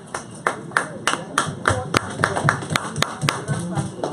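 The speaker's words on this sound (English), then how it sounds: "Thank you for the claps." A small audience at a Westchester Black political conference claps in scattered, distinct hand slaps, close and uneven in rhythm, with people talking over and between the claps.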